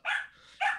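A dog barks twice in quick succession, two sharp, loud, close barks separated by a short pause.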